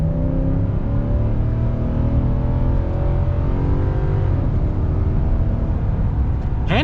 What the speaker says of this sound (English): we will get an acceleration, and we will be able to hear the beautiful sounds from the engine